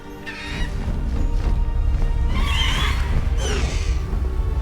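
A horse neighs and whinnies in the Hogwarts Legacy video game, with two bright whinny bursts rising over a dense, continuous game soundscape of music and ambience.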